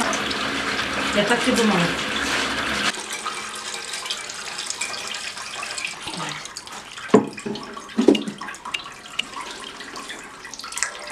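Water trickles and drains from homemade bryndza cheese being pressed in Gagauzia, a soft running flow at first that thins into scattered drips and small splashes while someone speaks briefly.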